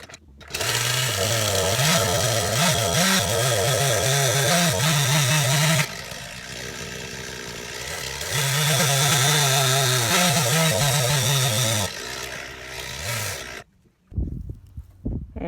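Norwood LM30 portable sawmill cutting through a mahogany log: a loud, steady engine-driven blade roar that dips briefly mid-cut, surges again, then cuts off near the end, leaving quiet.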